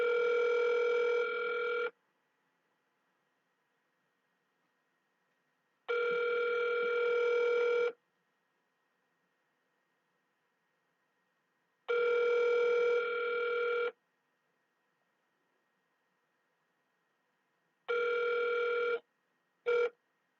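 A telephone dial tone on an open phone line sounds in steady, evenly spaced bursts of about two seconds separated by silence, clear and alone with no talking.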